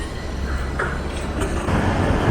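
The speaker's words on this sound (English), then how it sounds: "I'm going to jump on the train" Steady rumble of a train ride in London, with broadband rolling rail noise carrying on throughout, a brief higher squeal in the middle and the sound growing slightly louder toward the end.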